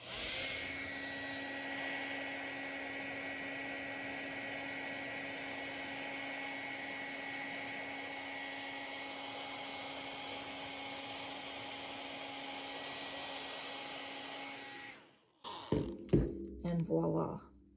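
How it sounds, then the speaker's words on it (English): A hair dryer runs with a steady, loud motorized whir and high-pitched whine for about fifteen seconds, then cuts off, followed by a few clunks and handling noises. "I'm gonna go get the hairdryer."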